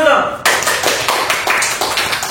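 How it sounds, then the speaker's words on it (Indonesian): Small podcast audience applauding a guest, several loose claps in a quick uneven rhythm, close and fairly loud, starting abruptly after a short moment of voice. "Tepuk tangan dulu dong."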